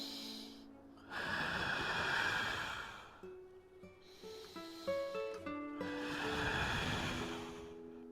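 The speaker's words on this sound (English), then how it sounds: "3 good breaths." Deep, slow breathing during yoga, two long airy inhale-exhale swells close to the microphone, with soft musical tones playing between them.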